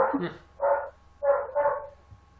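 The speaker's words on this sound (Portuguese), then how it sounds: "minhas cachorras que estão aqui latindo a todo tempo" Female dogs bark indoors at home, four sharp barks in an uneven burst, fairly close but moderate in level against a quiet room.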